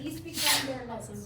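A single short sneeze in a classroom, a breathy burst near the middle, heard over a speaker who keeps talking throughout.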